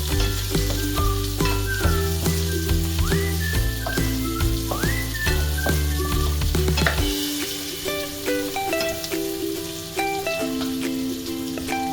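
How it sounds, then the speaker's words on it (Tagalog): Garlic and ginger fry in a pan for cassava leaves with coconut milk, a steady dense sizzle running throughout alongside background music, with no talking. "so lutuin muna natin yan. Bawang, luya, saka yung garlic niya."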